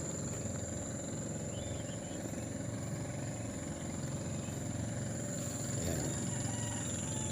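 A motorboat engine drones continuously at a steady mid-pitched idle-like hum, moderately close, running unbroken with no talk over it.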